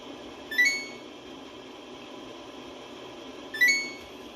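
Short electronic chirps from a Samsung washing machine as its options button is held down, two brief beeps about three seconds apart over a steady low background hum.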